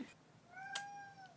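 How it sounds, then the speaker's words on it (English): A pet cat meows once, a short rising-then-falling cry that is fairly quiet, heard alone in an indoor room. "Sorry if you can hear my cat in the background."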